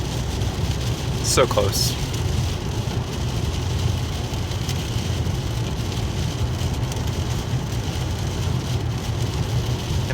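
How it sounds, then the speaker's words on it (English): Heavy rain heard from inside a moving car in the California Bay Area: a steady, dense roar of rain and road noise fills the whole stretch, with people talking briefly over it. "And it's like actually serious rain."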